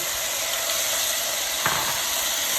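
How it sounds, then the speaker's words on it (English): Corn kernels sizzle in melted butter in a pan, a steady, soft broadband hiss with a brief louder crackle partway through, no voices. "So our butter is now melted, and I prefer to use butter as opposed to oil"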